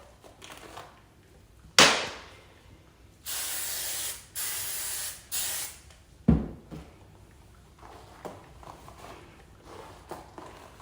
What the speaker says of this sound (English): Hairspray is your friend in a competition.